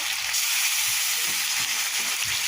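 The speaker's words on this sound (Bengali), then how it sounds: "এখন আমি ঝোলের পানি দিয়ে দেবো একটু পাতলা ঝোল থাকবে" Chicken curry frying in a pan with oil, then water poured in, producing a constant broad sizzling hiss with low bubbling underneath, close and steady.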